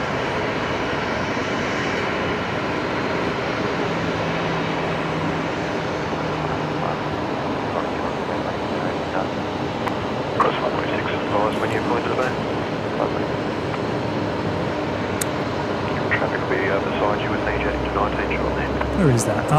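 Air New Zealand airliner departing Brisbane Airport, a broad distant jet engine roar that holds steady and swells slightly, with talking over it.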